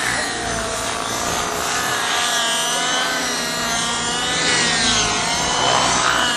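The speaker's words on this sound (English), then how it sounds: "And in the middle there, we've got this electric helicopter." An electric model helicopter whines and buzzes steadily overhead at an outdoor model show, its rotor drone swelling slightly as it passes close by.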